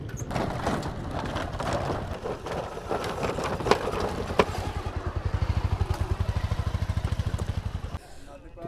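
Bajaj Pulsar 150 motorcycles rolling across a bridge over water, engines chugging in a steady pulsing rhythm nearby, with clattering and knocks from the crossing and voices talking over it.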